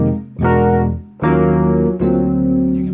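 An electronic keyboard without touch sensitivity sounds three loud, sustained chords in a row, each note starting at the same full volume and ringing evenly until the next.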